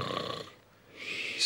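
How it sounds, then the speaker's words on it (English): Snoring in a children's show, a soft, throaty inhaled snore that fades into a brief pause and then rises again into a breathy, hissing exhale. "Soon everyone was snoring."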